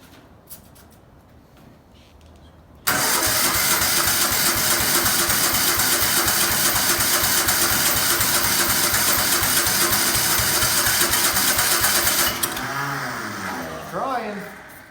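A COOT ATV engine cranks and catches after a quiet stretch, then runs loud and steady with a fast, rough, pulsing idle up close before revving down and changing pitch near the end.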